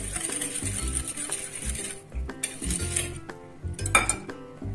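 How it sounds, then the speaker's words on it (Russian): Egg, sugar, salt and vanillin being stirred in a bowl, with irregular clinks and scrapes of a utensil against the dish, close and fairly quiet, pausing briefly midway. "Во взбитое яйцо добавляем сахар, соль и ванилин. Перемешиваем."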